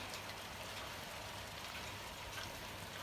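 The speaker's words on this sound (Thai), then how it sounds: "ลูกเห็บตกแรงมากเลยจ้ะ" Hail falls hard outdoors as a steady, dense hiss of pelting impacts, fairly faint and continuous with no voices.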